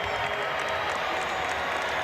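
A large crowd at the NFL Draft in Kansas City boos in a steady, dense roar that fills the whole stretch at an even, loud level without letting up.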